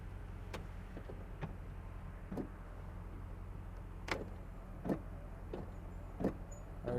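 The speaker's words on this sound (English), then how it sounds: "There's your wipers." The windshield wipers of a 1980 Chevrolet Camaro Z28 give soft mechanical swishes and thumps at irregular intervals over a low idling hum, fairly quiet and close.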